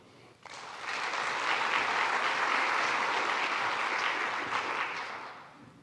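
An audience welcoming a keynote speaker at a library conference bursts into sustained applause that swells quickly, holds steady for several seconds, then tapers off.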